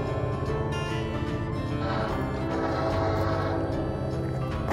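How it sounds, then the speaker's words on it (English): A train rolls past an old depot in a historic Civil War era state park in Washington, Arkansas, a steady near rumble with sustained tonal, horn-like lines running through it. "And here comes a train."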